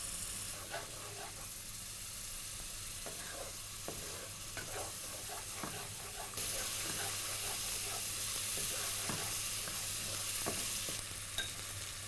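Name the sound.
onions sautéing in a pan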